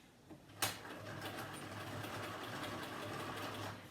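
A sewing machine runs a honeycomb stitch on denim. A click starts a steady, fairly quiet mechanical whir that runs on evenly, with no talking.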